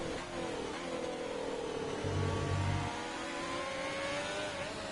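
A Formula 1 car engine from the F1 2020 racing game drones at Silverstone, holding a high, steady whine as the car runs flat out down the straight, with a second engine tone briefly joining partway through.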